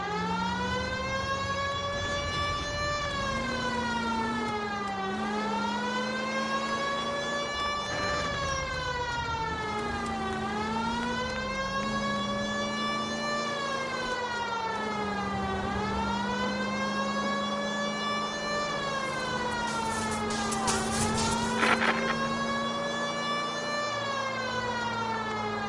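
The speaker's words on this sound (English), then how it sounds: "You hear the sirens." Wailing sirens in the video game L.A. Noire Remastered rise and fall continuously in repeating sweeps, loud and close, with an engine hum underneath and a brief burst of noise near the end.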